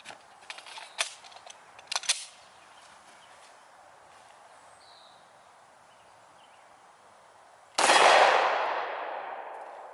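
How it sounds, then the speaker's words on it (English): A 9mm Glock 19 pistol fired at a tire rim outdoors: a few sharp metallic clicks and clangs early on, then a single loud shot that rings out and fades slowly into the open air. "next up is 9mm out of my nice Glock 19"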